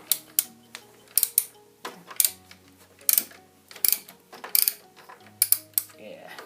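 A socket wrench ratchets in short clicking bursts with small pauses as bolts come off a Yamaha FZS600 Fazer motorcycle ignition switch, close and fairly quiet.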